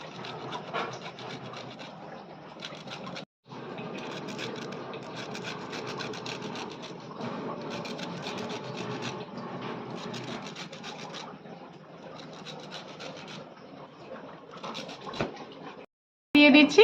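Gondhoraj lemon rind rubbed lightly against a grater to take only the green zest, a continuous close rasping scrape in long strokes with one brief pause midway.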